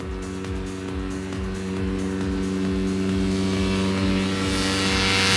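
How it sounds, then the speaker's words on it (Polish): Light aircraft powered by a Sky 110 engine runs up for takeoff, a steady buzzing propeller drone with a rhythmic pulse that slowly grows louder and brighter. "Marcin gotowy do startu. Silnik Sky 110"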